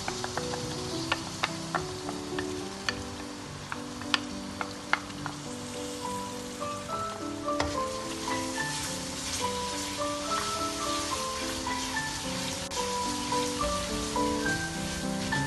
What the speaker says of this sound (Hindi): अभी मैं इसमें ये टमाटर प्यूरी भी डाल दूँगी।